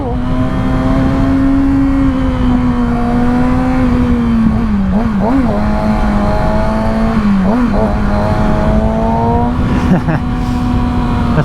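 A Kawasaki ZX6R motorcycle engine runs at a steady high idle, giving a few quick blips of the throttle. A voice talks over the sustained engine tone.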